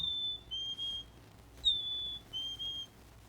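A person whistles an imitation of a black-capped chickadee call, a series of clear, high whistled notes in short phrases with gaps between, fairly quiet and alone without talking.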